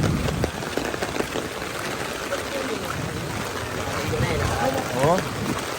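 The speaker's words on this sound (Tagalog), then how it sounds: "Grabe, lakas ang ulan" Heavy rain pours steadily, a dense hiss of drops drumming on a surface with no break, the downpour loud and close throughout.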